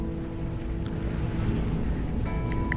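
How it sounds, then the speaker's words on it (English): Steady low rumble of waves washing onto a beach, a continuous near wash with a brief tonal hum entering toward the end. "You recognize this sound, the sound of waves on the beach."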